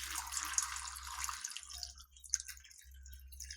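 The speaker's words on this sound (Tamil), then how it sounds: "இப்போ இதில் கொஞ்சம் தண்ணி ஊற்றி" Soft trickling and splashing of water being poured into a cooking pot of cauliflower, faint and close, over a low steady hum.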